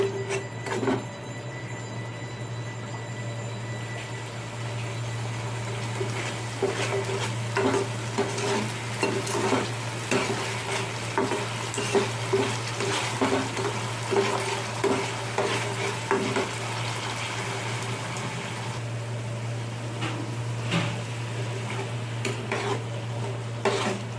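Spice paste frying in hot oil for khichuri sizzles continuously while a utensil stirs and scrapes against the pan in irregular clicks and scrapes, close and moderately loud, with a steady hum underneath.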